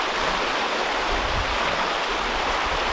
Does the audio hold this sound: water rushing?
yes